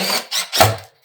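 A power drill drives fasteners into a shingle panel during a roof install, giving a few short, close whirring bursts separated by brief pauses.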